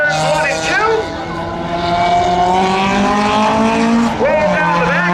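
A Honda and a Subaru race side by side at Hudson Speedway during a Memorial Day spectator race, their engines loud and close, revving and shifting pitch through the turns with tires squealing, while a voice talks over the noise.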